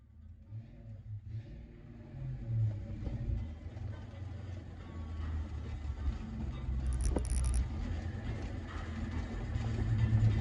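A Ford Mustang with 373 gears idles and runs with a steady low engine rumble that slowly builds in loudness, heard from inside the car.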